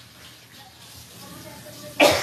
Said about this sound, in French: on a toute une petite toux ici aujourd'hui.